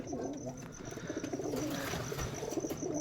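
Rajshahi Giribaz pigeons kept for sale coo in soft, repeated low calls, fairly close, with faint human voices underneath and a light bird chirp now and then.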